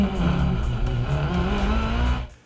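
A Mitsubishi Evo's engine revs hard on launch control and holds at a high, steady roar for a couple of seconds before cutting off abruptly, at an autocross event.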